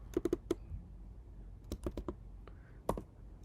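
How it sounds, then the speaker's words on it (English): Computer keyboard typing on a Mac, a quick burst of clicky keystrokes, a pause, then another cluster of taps ending in a firmer key press, close and fairly quiet. "So we typed pep space install space Otter -grader and then hit enter."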